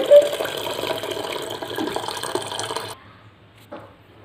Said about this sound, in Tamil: இந்த சுடு தண்ணியை வடிச்சிருங்க.